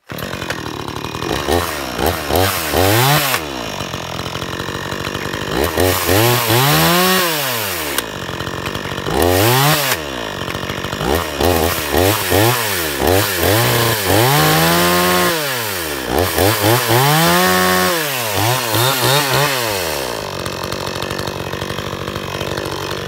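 A 52cc Chinese clone chainsaw cutting through wood, its engine rising into loud whining revs during each cut and dropping back to a rough idle between them, several cuts in a row, close and dominant.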